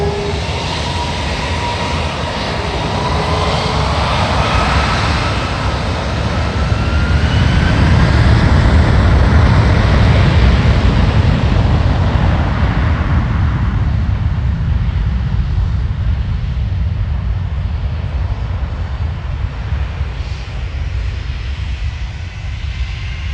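A passenger airplane engine roars at Manchester Airport, swelling to a loud, close, sustained rumble before slowly fading away, with no talking.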